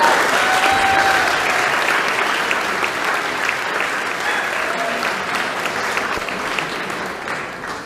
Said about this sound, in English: So if you would give them a round of applause,